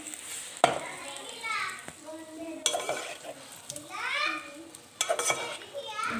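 Potatoes for Sindhi biryani are stirred and mixed in a sizzling pan, with repeated scraping strokes of a spoon over continuous frying hiss, close and fairly quiet, and a voice faintly in the background.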